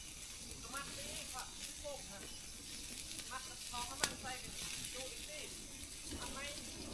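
Food sizzles and crackles steadily as it fries in hot oil, a dense continuous hiss close by, with voices talking over it.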